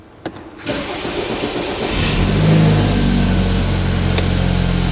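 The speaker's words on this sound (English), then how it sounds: "Took a moment to start because all the fuel rail had been drained." A BMW 220i M-Sport cranks briefly with its fuel rail drained, then catches and settles into a steady, loud idle close by, with no talking over it.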